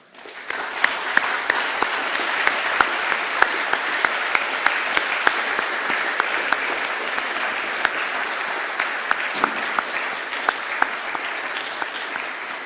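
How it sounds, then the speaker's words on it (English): An audience at a London talk event on AI existential risk gives warm applause, sustained clapping with sharp individual claps standing out, steady and fairly loud for the whole stretch before fading slightly at the end. "Give them a warm applause."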